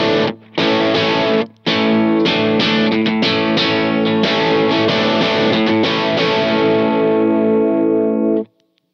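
Electric guitar played through a mid-heavy, throaty rock overdrive pedal in a worship rig, a loud distorted riff of repeated chords and short gaps that rings out and cuts off at the end.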